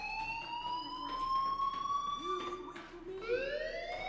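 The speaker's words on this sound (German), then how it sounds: "do you hear that fire alarm?" A fire alarm wails in the game Life is Strange, with rising siren tones sweeping over a steady background hum, moderately loud and continuous, with faint voices underneath.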